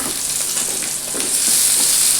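Chopped tomato dropped into a pan of onions frying in hot coconut oil, a steady close sizzle and crackle with occasional stirring scrapes, growing slightly louder toward the end.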